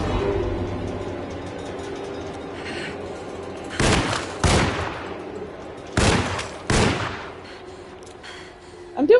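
Gunfire in the Alone in the Dark game, four sharp, loud shots in two closely spaced pairs over a low background hum, with a further burst at the very end.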